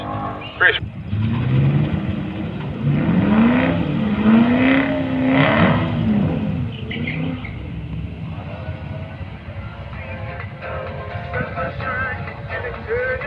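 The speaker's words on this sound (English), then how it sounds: "both cars coming up the line now" Two drag racing cars, one a utility, accelerate hard down a sunset drag strip at a nationals meet, engines roaring and rising in pitch as they pass. The sound is loud and sustained, then fades into a distant rumble.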